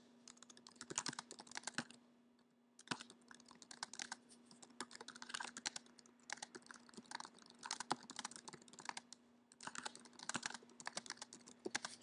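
Fingers tap on a computer keyboard in quick bursts of clicky keystrokes, separated by brief pauses, close and fairly quiet, alone without any talking.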